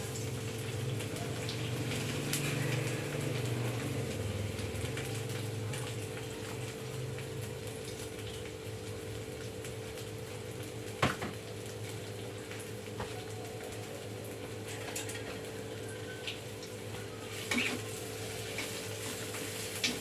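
Sliced bitter melon frying in hot oil, a steady soft sizzle and crackle that carries on throughout, with a few sharp clicks and clatters from the pan.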